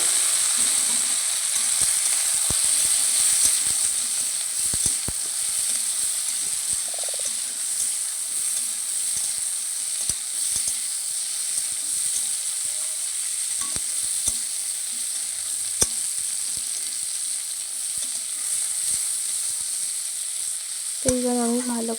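Fried cauliflower and potato pieces hit a hot pan of oil for a fish curry, sizzling steadily and close up with scattered clinks of stirring throughout and a sharp clatter near the end.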